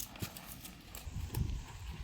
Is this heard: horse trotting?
yes